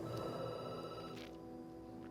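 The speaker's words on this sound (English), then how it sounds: "The phone rings and you jump." A telephone rings in the video game Night Call, a steady electronic bell tone repeating at moderate loudness over a low ambient musical bed, with no talking.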